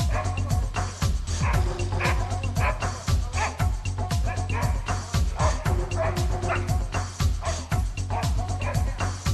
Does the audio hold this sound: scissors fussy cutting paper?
no